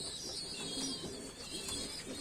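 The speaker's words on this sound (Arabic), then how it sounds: "احنا بنحب الحمام، احنا تجار حمام" Pigeons kept by a pigeon dealer in Tanta, Egypt, cooing softly and steadily in a loft, with faint rustling and background noise and no talk.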